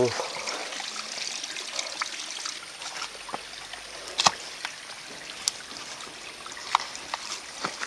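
Water trickles steadily down into a large, deep ditch outdoors, a soft continuous hiss broken by occasional sharper drips and splashes.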